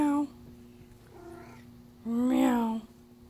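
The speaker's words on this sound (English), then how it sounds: "Let's see the kitty." A cat meows twice, close and clear, with a short whiny call at the start and a longer meow near the end, over a steady low hum.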